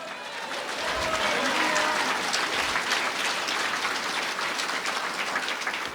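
A congregation applauds during a church gathering, a dense, steady roar of clapping from many people that swells after the first second and holds with a faint voice underneath.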